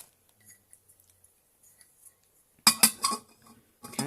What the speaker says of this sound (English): This is my kettle here. I'm gonna pop the lid on.